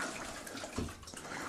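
Bleach water is poured out of a plastic storage container, a brief steady gush and splash heard close by without any talking.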